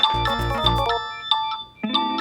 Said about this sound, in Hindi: तुम्हारा फोन बजने वाला है।